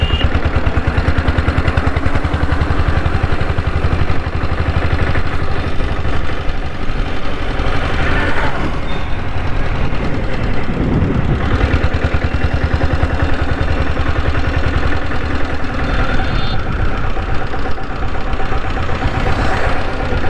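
A diesel Bullet motorcycle engine rated at 6.5 or 7.5 HP thumps loudly and continuously while being ridden, a close, knocking, mid-pitched drone with steady rhythm and no talking over it.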